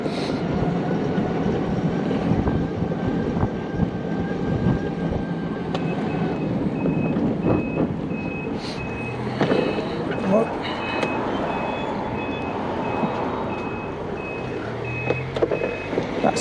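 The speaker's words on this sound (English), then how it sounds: "seeing a car reversing back at you in a junction." A car backs up at a road junction while a steady electronic reversing beep repeats over rumbling traffic noise; a voice talks over it at times.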